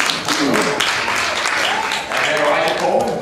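A dense wash of audience applause for contestants at a televised quiz game show, steady and loud throughout, with a voice speaking over the crowd.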